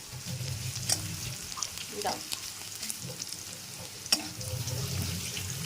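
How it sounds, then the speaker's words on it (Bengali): Quiet, steady frying sizzle of shrimp in a pan with occasional clinks and stirring scrapes, fairly faint throughout. "চিংড়ি মাছটা দিয়ে দাও একটু ভেজে নাও"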